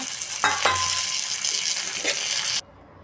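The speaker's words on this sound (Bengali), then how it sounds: "দেখুন ভাজা হচ্ছে পেঁয়াজ মরিচটা, ভাজা হলে এটার ভিতরে মাছে" Hilsa fish frying in oil with onion and chili, a loud, dense close sizzle with a couple of sharp utensil knocks, cutting off abruptly near the end.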